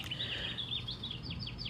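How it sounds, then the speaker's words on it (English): Small birds chirp in a spring garden, a run of quick, thin repeated calls over a low background rumble, moderately distant. "you would hear the birds chirping."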